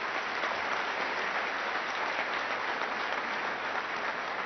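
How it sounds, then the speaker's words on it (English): Steady applause from an audience at a chamber of commerce awards ceremony, a dense, even wash of clapping that fills the room without a break and without voices over it. "another round of applause"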